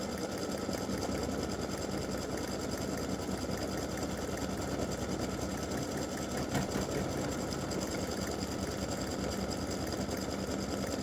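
An embroidery machine stitches a freestanding lace Christmas bow design, giving a continuous, even mechanical whir and rapid needle chatter that holds steady throughout, close by and without talk.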